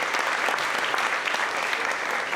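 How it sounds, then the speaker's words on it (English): Audience applause at a charity walk celebration in Toronto, a dense, steady wash of many hands clapping throughout, fairly close and full, with no pauses. "So a big round of applause and thank you to all of you"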